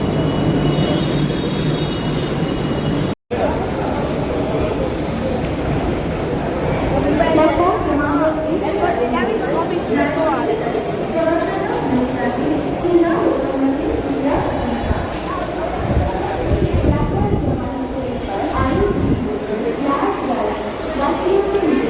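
A commuter train rumbles at Churchgate railway station in Mumbai, a steady rolling roar with faint wheel squeal running throughout, while voices and crowd chatter mix in under it.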